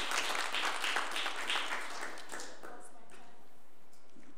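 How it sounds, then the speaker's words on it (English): Audience applause in a school committee meeting room, steady and fairly close at first, then thinning out and fading to quiet after about two and a half seconds. "we'll pause for the applause"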